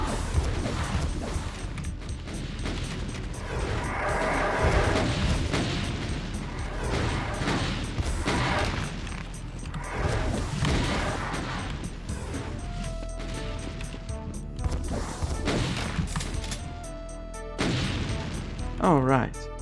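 Rockets fired in Final Doom (TNT: Evilution, MAP18 Mill) boom in a steady run of loud blasts over a dense, continuous backdrop of in-game noise, explosions and mechanical clatter, with pitched electronic game tones near the end.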